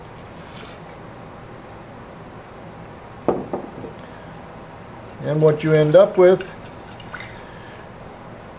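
Warm water, about 90 to 95 degrees, is poured onto dehydrated sourdough starter, giving a short close splashing trickle that is first heard alone and then under a voice that starts to speak.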